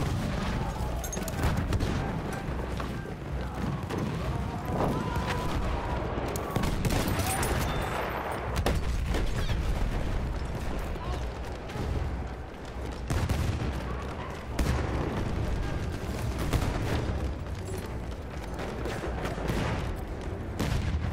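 Battlefield 1 gunfire keeps going for about twenty seconds: dense rifle and machine-gun bursts with scattered heavier booms crackle close and far, and voices can be heard under the shooting now and then.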